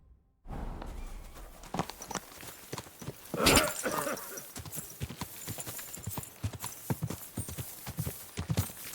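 Horse hooves clip-clop in a quick, steady rhythm on hard ground in the video game Kingdom Come: Deliverance II, fairly close, with a brief louder burst of movement partway through.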